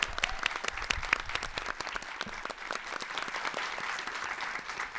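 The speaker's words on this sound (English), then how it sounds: "Let's give them a big round of applause" Moderately faint applause with distinct individual claps, a scattered group at a demo day clapping steadily throughout.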